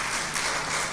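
A church congregation at a Sunday worship service breaks into applause, a brief, dense burst of many hands clapping at close range.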